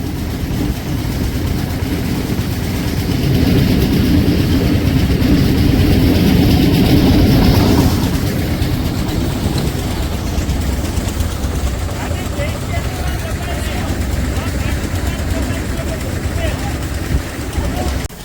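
A tractor engine on a farm roars steadily at close range, a deep low rumble that swells and then settles into a constant drone, with someone talking over it.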